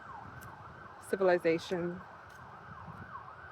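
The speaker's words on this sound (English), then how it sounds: "I don't know if you can hear the siren" A distant emergency vehicle siren wails faintly in a slow rising and falling sweep throughout, in an outdoor natural setting, while a person speaks briefly over it.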